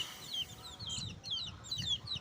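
Ayam Cemani chicks give high, thin peeping chirps in quick overlapping bursts, close by, over a low background rumble of handling and movement.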